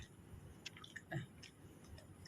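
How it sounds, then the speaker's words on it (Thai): A dog chewing milk tablets close by, with soft wet mouth clicks and crunches in a short uneven rhythm, quiet and with no one talking. "ชอบกินนมอัดเม็ด"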